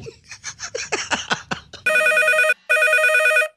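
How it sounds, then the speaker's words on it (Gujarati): A telephone rings loudly in a Gujarati comedy skit, with two long, steady electronic ring bursts separated by a short gap, following a stretch of a man's speech. "ફોન આવ્યો"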